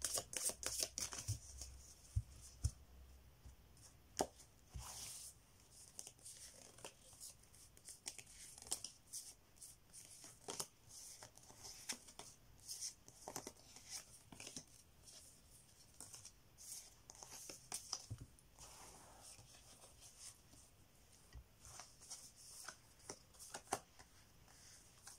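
Cards shuffled for a French sentimental tarot-style reading, giving repeated soft riffling and papery flicks in irregular bursts, close and quiet, with no voice.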